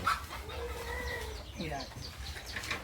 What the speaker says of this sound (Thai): ไม่ยินอะไรเลยยินแต่ไก่ขัน